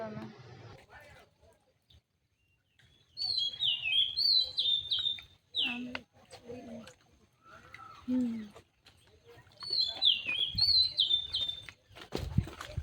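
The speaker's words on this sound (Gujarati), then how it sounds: "જો ચકલાનો અવાજ સંભળાય છે સાંભળો જો" Sparrows chirp in quick high bursts, fairly close, on Datar hill in the monsoon, between stretches of talking and some low handling noise.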